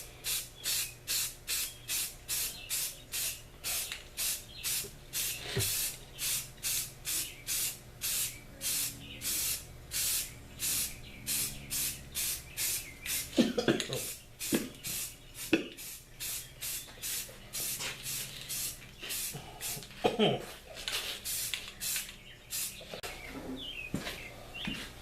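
Spray can bursts of primer coat a Wilton 400 vise body, a long series of short hissing sprays in a steady rhythm with brief gaps, close and loud, with a few clunks of handling near the end.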